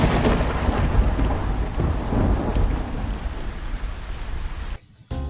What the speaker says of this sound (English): There was another flash of lightning and another close explosion of thunder.